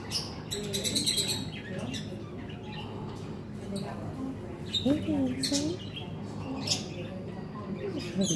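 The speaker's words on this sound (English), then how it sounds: "He's a pretty bird." A pet bird named Zeus chirps and calls in short, close tweets and a squawky rising note, with people talking nearby.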